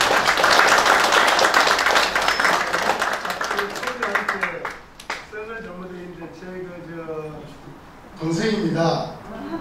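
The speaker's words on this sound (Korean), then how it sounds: "큰 박수 부탁드립니다." Loud applause and clapping from a crowd at a Korean ceremony fill the first half, then fade under someone speaking Korean over a microphone, with a brief swell of cheering near the end.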